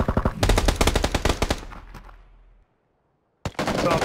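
Rapid automatic gunfire in the battle royale game PUBG, loud close bursts of shots that stop, trail off into a short silence, then another burst resumes.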